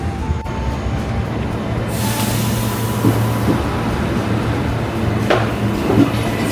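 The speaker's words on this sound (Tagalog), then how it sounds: "Ayun na yung train guys!" A train pulls into a station on the Gold Coast: a steady low rumble and wheel noise fill the scene, with faint squeals and a couple of sharper clanks as it rolls in, no talking.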